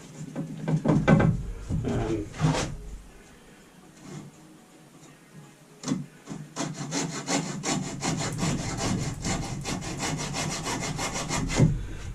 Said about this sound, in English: to get a neat finish I'm going to use a hacksaw